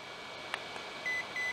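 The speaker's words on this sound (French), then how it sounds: "il y a une alarme qui fait 3 bip, et en même temps, l'affichage est devenu rouge" A CocoBear infrared forehead thermometer sounds its fever alarm, giving short electronic beeps, one brief blip followed by two longer steady tones, fairly faint over a quiet room hum.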